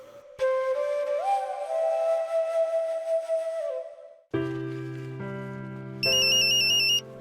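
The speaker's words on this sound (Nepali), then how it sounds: "कसले फोन गर्यो फेरि?" An incoming call on a phone rings out loudly, first a sustained whistling electronic tone, then a clear ringtone melody of stepped notes with a high chime layered near the end.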